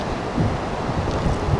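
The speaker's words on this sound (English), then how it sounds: "That's the roar of the water" Water roars at a dam in a steady, broadband rush with no breaks, close and fairly loud, blended with some wind. No voices are heard.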